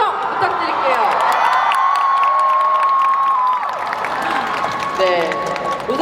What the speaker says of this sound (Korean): 우리 함성으로 한번 시작할까요? 자, 박수 함성 부탁드릴게요